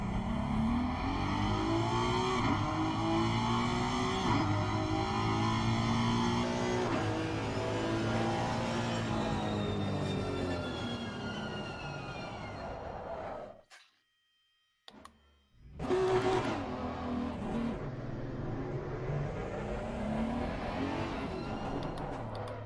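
A race car laps the Brands Hatch circuit, its engine loud and close as it revs and shifts through the gears for about thirteen seconds, cuts out almost completely for a moment, then roars back to full power.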